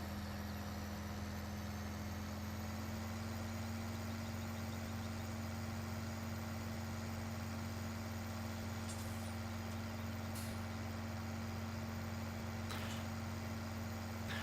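A tractor engine in Farming Simulator 15 drones at a steady idle, a low constant hum with a few faint clicks.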